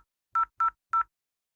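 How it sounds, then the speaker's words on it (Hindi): Three quick telephone keypad beeps sound in a fast, even sequence as a number is dialed, crisp and isolated against silence. "मैं अब नंबर डायल करता हूँ"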